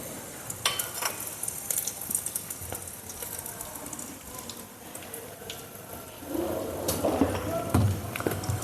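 Cumin seeds and dry chillies crackle and sizzle in hot oil in a home kitchen, a close, steady frying hiss with scattered pops that grows louder and busier toward the end.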